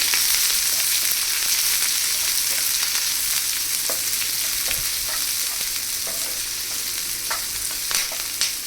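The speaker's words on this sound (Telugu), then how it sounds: "పచ్చిమిర్చి, ముందుగా కట్ చేసి పెట్టుకున్న ఆనియన్స్ అండ్ దెన్ కరివేపాకు వేసి బాగా మిక్స్ చేసుకోండి." Green chilies, onions and curry leaves fry and get stirred in a pan for potato fry, a steady close sizzle with scattered scraping taps of the spoon throughout, no talking.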